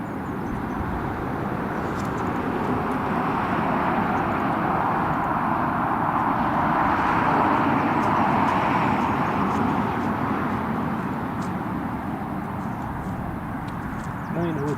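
RAF Airbus A330 coming in to land at Newcastle Airport, a steady broad roar that swells toward the middle and then eases, heard from a distance with no other sounds intruding.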